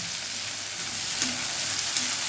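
Steady, loud sizzling of vegetables (cluster beans and potatoes) frying in hot oil with a little water added, a continuous crackling hiss with faint stirring, no voices.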